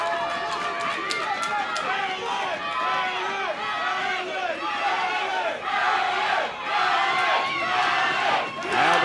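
Boxing crowd roaring and yelling throughout a fight between Alex Perez and Francisco Figueroa as punches are exchanged at center ring, with a dense, shifting wash of shouts and cheers at steady loudness and a commentator's voice woven through.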